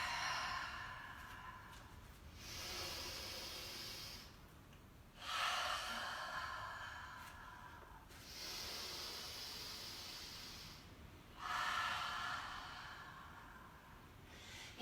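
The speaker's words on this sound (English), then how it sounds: "Take a breath in. Open mouth, exhale." Someone exhales through an open mouth during a gentle yoga flow. Several slow, soft breaths come one after another, each a breathy hiss of a second or two, separated by quiet pauses.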